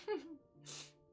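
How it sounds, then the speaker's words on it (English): A single short, muffled sneeze, held back and quiet, followed by a breathy exhale. "Oh, that was a sneeze."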